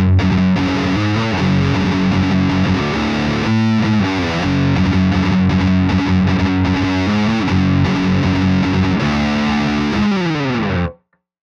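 Heavily distorted riffing on a Squier Contemporary Active Starcaster electric guitar with active pickups in the middle position, playing a song at a slowed tempo. Loud and continuous with chugging palm-muted passages, cutting off abruptly at the end.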